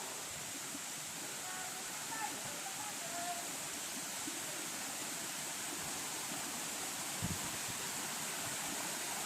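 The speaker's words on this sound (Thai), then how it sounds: "อันนี้นี่คือข้างในน้ำตกนะคะ" A waterfall in Thailand roars as a steady, broad rush of falling water, heard from inside the falls, close and constant, with a brief thump partway through.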